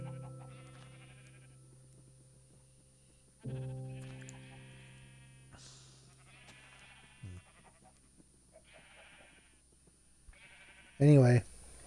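Sheep bleating in the Minecraft video game, several separate bleats spread across the stretch over a quiet low hum, with one loud close bleat near the end.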